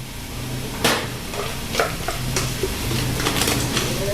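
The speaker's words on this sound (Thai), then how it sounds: "ผัดให้เข้ากันครับ" Instant noodles are stir-fried with soy sauce in a hot pan, a loud continuous sizzle broken by several sharp spatula scrapes and clacks at irregular intervals.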